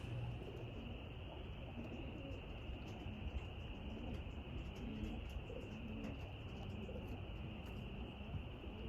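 White pigeons in a new settling cage at a racing and roller pigeon loft, soft cooing rising in low rolling phrases under a steady hiss of insects and outdoor ambience, fairly faint and continuous.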